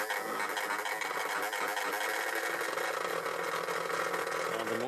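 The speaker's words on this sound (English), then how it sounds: "We start the motor." An electric motor spins a rotating crystal ball device, giving a loud, steady whirring hum with a dense rattling texture that stays constant throughout, with no voices.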